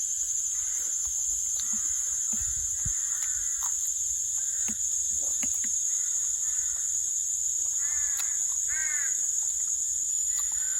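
Crows caw repeatedly in short harsh calls, some overlapping, over a constant high insect-like whine and faint outdoor background.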